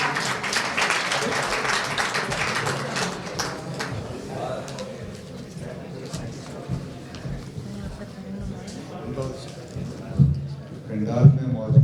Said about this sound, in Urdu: آپ سب کی بھرپور تالیوں میں قیصر وجدی۔